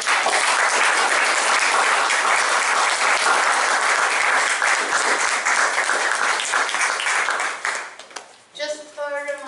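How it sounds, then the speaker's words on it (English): An audience claps in sustained applause at the end of a university lecture on STEM programs, dense and loud for several seconds before fading out as a voice begins speaking. "Could we just have a round of applause for that?"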